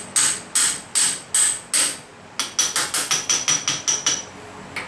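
A socket is hammered against a VW axle to seat it onto its splines: five sharp metallic taps at an even pace, then a quicker run of about nine lighter blows, close and ringing, with no voices.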